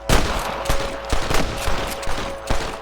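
Rapid gunfire in the Red Dead Redemption video game as snipers are shot at, with repeated sharp cracks and volleys spread across the moment, loud and close, with no talking.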